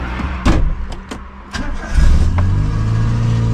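Car engine cranking with a few sharp clicks and mechanical knocks, then catching and settling into a loud, steady idle that rumbles on to the end with no voices.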